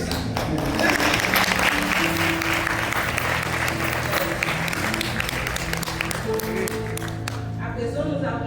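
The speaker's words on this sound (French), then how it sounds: "applaudissons ça." Sustained applause from a large audience at a 90th birthday ceremony, dense steady clapping filling the room with a faint murmur of voices beneath it.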